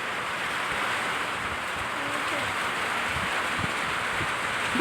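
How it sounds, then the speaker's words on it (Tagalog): Steady rain falls outdoors as a continuous soft hiss, evenly textured and moderately faint, with low rumbling undertones and no talking. "Hindi ka maririnig kasi may ulan yun"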